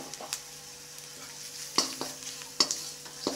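Puffed rice mixed with garlic and curry leaves is stirred in a pan with the stove switched off, giving a soft continuous scraping and rustle broken by a few sharper clinks of the utensil against the pan.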